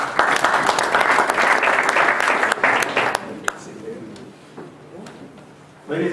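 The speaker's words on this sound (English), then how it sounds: "So I'll applaud them again." An audience at an Israel Bonds delegation event breaks into applause that holds loud and steady for about three seconds, then thins out and fades, with a voice beginning near the end.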